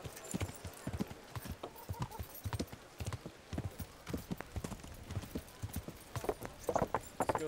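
Steady clip-clop of horse hooves close by, with a brief whinny and light background sounds, from the video game Kingdom Come: Deliverance.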